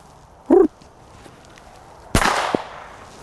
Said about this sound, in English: start to move my starter pistol in a little bit closer to where we're shooting right over his head